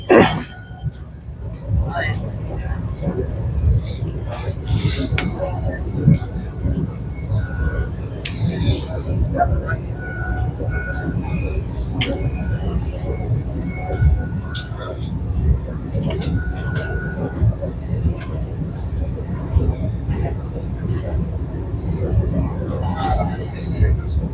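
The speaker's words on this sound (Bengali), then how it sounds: "বারসই জংশন পেরিয়ে গেল আমাদের এই ট্রেন।" Vande Bharat Express running past Barsoi junction, heard from aboard as a continuous loud low rumble and rattle with scattered clicks and knocks, a voice talking over it throughout.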